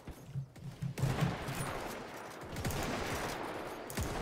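Rapid volleys of gunfire in the video game Mount & Blade: Warband, a line of soldiers firing pistols in a battle, with several crackling shots early, then a dense, sustained fusillade of overlapping reports at a moderate distance.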